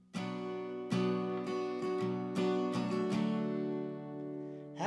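Acoustic guitar strumming the chorus of a song, a run of sharp strummed chords ringing over sustained tones, close and clear with no voice.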